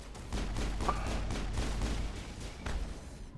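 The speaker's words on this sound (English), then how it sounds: "they're just standing here shooting me" Enemies in the video game Mass Effect 1 fire guns at the player in a steady, continuous volley of rapid shots at moderate distance, with a few louder bursts standing out.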